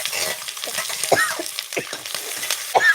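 Curry leaves, onion and green chili hit hot oil with mustard seeds for kanda poha, sizzling and crackling in quick irregular pops while a spoon stirs and scrapes the pan, close and clear with no talking.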